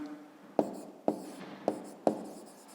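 Writing an answer for a fifth-grade maths exercise, with four sharp pen taps and strokes on paper at a steady pace, close and quiet, with no talking.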